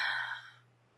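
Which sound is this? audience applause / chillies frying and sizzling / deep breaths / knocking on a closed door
deep breaths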